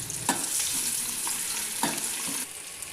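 Onions fry in oil for chicken biryani, a constant close sizzle with a couple of soft stirring knocks.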